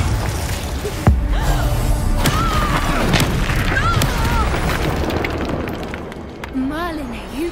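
Fiery Confringo spell blasts in Hogwarts Legacy, a sharp boom near the start followed by a dense wash of magical combat effects, crackles and whooshes, with a character's voice calling out over the action.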